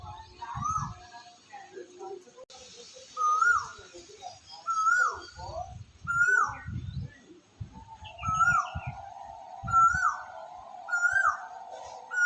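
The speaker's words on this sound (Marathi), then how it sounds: "कोकिळा आवाज देते" An Asian koel gives repeated rising whistled calls, several in a row at a steady pace, clear and fairly near, over low rustling and faint background voices.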